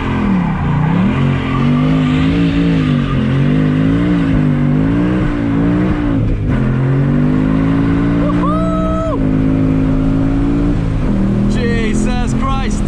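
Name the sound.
2019 Ford Mustang Bullitt engine revving, tires squealing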